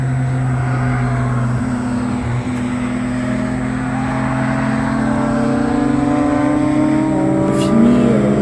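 A Peugeot 208 Rally Cup car drives on a race circuit, its engine droning loud and close with a steady tone that gradually climbs in pitch as it accelerates, with no break.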